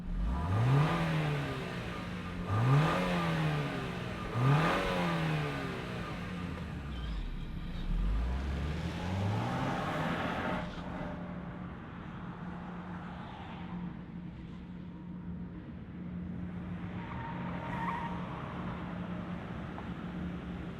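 A 2025 Lexus NX 350 engine revs up and down in three rising sweeps followed by a longer pull, fairly loud and close, then settles into a quieter steady running hum with no talking.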